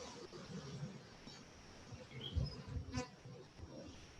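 Honey bees buzz in a steady, moderate drone as a frame is lifted from the upper brood chamber of an open hive, holding an even, fairly close hum with a couple of slightly louder swells and no talking.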